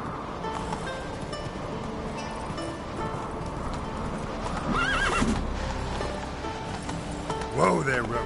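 A horse in The Witcher 3 gallops with rapid hoofbeats, then lets out two loud neighs, one midway and one near the end, with a voice speaking over it.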